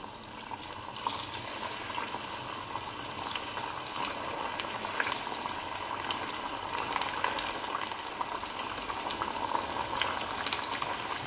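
Sabudana vada made from sago powder frying in hot oil, giving a steady, dense sizzle and bubbling crackle that carries on evenly throughout, with no voices.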